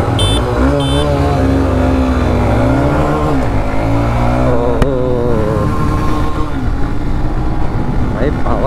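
TVS Raider BS6 and Honda Shine BS6 motorcycles in a drag race on an empty road: loud, close engines drone and rev up and down continuously, with voices talking over them.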